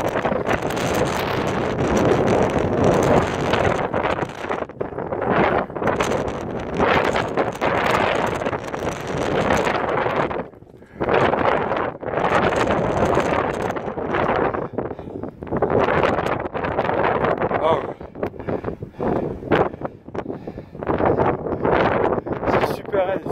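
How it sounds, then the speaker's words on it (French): Strong gusting wind on a Pyrenees summit near the Migouelou and Artouste lakes buffets the microphone, a loud broadband roar that surges and dips throughout, with occasional voices mixed in. "Beaucoup de vent, normal,"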